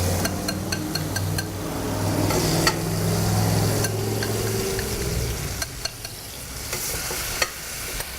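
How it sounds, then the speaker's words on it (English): Food fries in a pan with a steady, close sizzle and crackle, while a utensil stirs and taps the pan in scattered clicks, no voices over it. "Listen to something fry."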